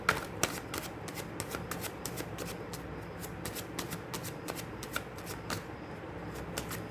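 Tarot cards being shuffled by hand give a crisp, close riffling made of quick repeated snaps and flutters that run steadily for several seconds, with no talking.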